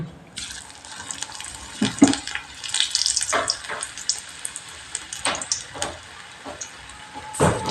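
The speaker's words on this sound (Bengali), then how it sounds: "তেলের মধ্যে আলুর ব্যাটারটা দিয়ে আমি বড়ার আকারে ভেজে নেব" Potato batter fritters for alur chop fry in hot oil, a constant bubbling sizzle with sharp crackles and pops scattered throughout, close and fairly loud.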